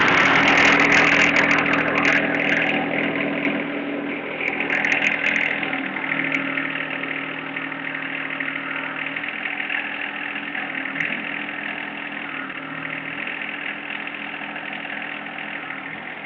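A John Deere 1025R compact tractor engine idles at about 1600 RPM, a steady, close and loud mechanical hum with a constant tone that eases slightly after the first few seconds.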